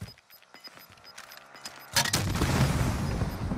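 Gunfire in the video game Call of Duty Warzone: a few faint sharp shots at first, then a louder burst of rapid firing that continues to the end.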